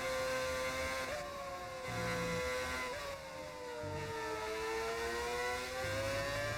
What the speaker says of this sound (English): Are the engine sounds a mod?